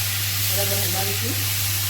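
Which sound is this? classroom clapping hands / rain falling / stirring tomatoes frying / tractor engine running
stirring tomatoes frying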